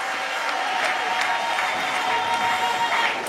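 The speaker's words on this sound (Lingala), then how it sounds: "Acclamez fortement pour le Seigneur Jésus" A church congregation at a prayer service claps and cheers together, a steady wash of many hands applauding with scattered shouts mixed in, sustained and fairly close throughout.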